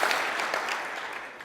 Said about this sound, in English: Oh yeah, you can clap on that.